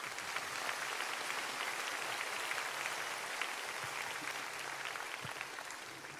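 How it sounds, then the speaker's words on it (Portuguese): A church congregation claps together in a broad, continuous wash of applause, even and fairly loud across the whole stretch without pause. "Pode aplaudir ao Senhor."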